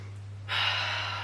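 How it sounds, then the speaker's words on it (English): A sharp, close intake of breath through the nose during a low-impact HIIT workout, starting abruptly and holding steady as a loud airy rush over a constant low hum. "Breathing in through the nose if you can."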